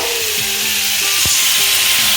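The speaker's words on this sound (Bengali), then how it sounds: "তা এখন এবার ভালো করে ভাজছি।" Onion, garlic and tomato with cumin seeds fry hard in a pan, giving a loud, continuous hissing sizzle with a few light scrapes and clinks of a stirring utensil.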